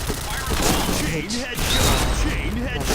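Explosions and gunfire from a grenade fight in the shooter game Point Blank on the Desert Camp map, with dense bursts and thuds throughout and someone talking over the battle.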